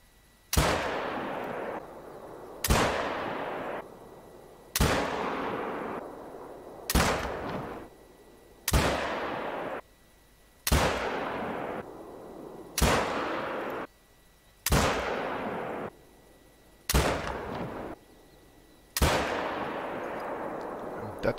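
Mårtensson 6.5mm rifle firing at a range target in the hunting game theHunter: Call of the Wild, ten sharp loud shots about two seconds apart, each with a short echoing tail.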